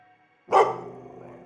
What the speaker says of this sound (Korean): 다시 사납게 짖어대며 앞으로 달려나갔습니다